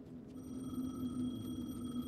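A payphone rings in the game Alan Wake 2, a steady electronic trill that carries on without a break under a low ambient hum, with no voices over it.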